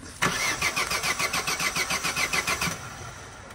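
A car engine cranks with a rapid, even chug of starter strokes for about two and a half seconds, then settles briefly; fairly loud and close, with no talking over it.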